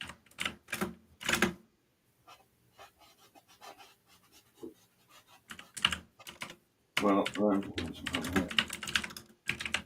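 Rapid clacking of typing on a keyboard or typewriter, with bursts of keystrokes, pauses and a dense flurry toward the end, heard close alongside brief speech.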